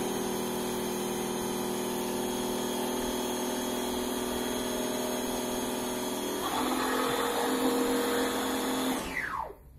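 Electric blender mixing sugar into a banana protein shake, a loud continuous whirring hum that roughens and thickens partway through before spinning down abruptly at the end.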